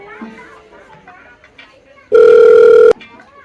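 A mobile phone rings in one loud, steady electronic tone lasting under a second. It cuts in sharply after people have been talking.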